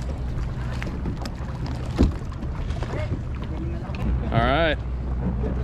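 A kayak moves on open water in the Philippines, with wind buffeting the mic, faint paddle splashes and water swishing. People speak briefly nearby.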